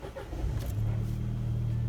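A car engine catches and starts after a fuel pump replacement, swelling from a brief crank into a steady low running hum, heard fairly quietly and close.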